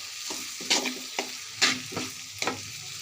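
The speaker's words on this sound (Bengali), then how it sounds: "এখন মশলার মধ্যে আমি আমার নুডলসটি দিয়ে দিব" Noodles stir-frying in a pan of spicy masala, with a steady sizzle broken by several sharp scraping stir strokes about every half second to a second, close and fairly loud, with no talking.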